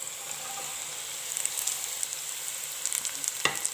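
Cabbage stir-fried in a pan for vegetable fried rice gives a steady, fairly quiet sizzle, with a few scraping stirs and one sharper knock near the end.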